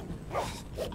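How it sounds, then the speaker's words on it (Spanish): Dogs bark in a couple of short, muffled bursts within about a second, heard somewhat distant in an indoor room. "Putos perros."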